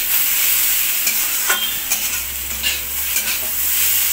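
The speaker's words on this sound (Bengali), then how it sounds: "এটাকে আমি এখন শুধুই নাড়াচাড়া করবো।" Bitter gourd and potato with poppy seeds stir-fry in a pan, a loud steady sizzle with repeated scraping strokes of a spatula through the mix and a low hum underneath.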